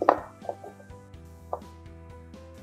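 A knife slices carrots on a cutting board while preparing bulgogi jeongol, making a few sharp, close chopping taps, one strong cut first and then lighter, spaced strikes over a steady low background hum.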